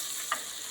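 Onion frying over full flame in a pan with a small piece of cinnamon and two cloves for rajma, a steady soft sizzle with one brief scrape of stirring.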